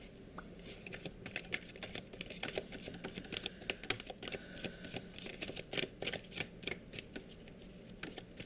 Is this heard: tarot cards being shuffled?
yes